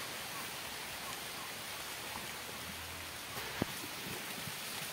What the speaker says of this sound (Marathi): पावसाची बघा काय पाऊस पडते